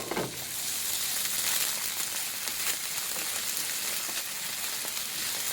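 Curry paste frying and spitting in a hot pan for a Thai green curry, a steady close hiss with scattered crackles and pops running throughout.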